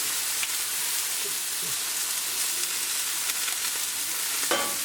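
Beef browning in a hot pan gives a steady, even sizzle, fairly quiet and alone, with a few faint clicks and a brief scrape near the end.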